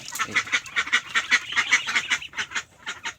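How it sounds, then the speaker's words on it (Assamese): Farm ducks quacking in a rapid, steady run of loud, close calls, about a dozen harsh nasal honks in quick succession before slowing toward the end. "হাঁহ আছে, হাঁহ আছে দেখাম"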